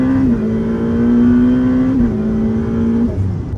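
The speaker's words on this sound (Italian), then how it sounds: "Sentite la cambiata quanto è cattiva." A Ferrari F8 engine drones steadily while driving, with a sharp gear change partway through that briefly drops the pitch before the engine note settles again, loud and close.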